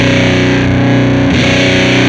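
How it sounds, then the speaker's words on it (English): Distorted electric guitar through a Stone Deaf QBoost pedal set to its highest, treble-boosting frequency, a loud sustained chord ringing bright and cutting, with a brief pitch shift partway through. "So you can hear that in this mode, we're actually boosting the treble"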